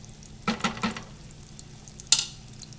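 Butter bubbling in a pan on the stove, a soft low sizzle with a few quick clinking stirs and a sharper utensil tap near the end, close and fairly quiet.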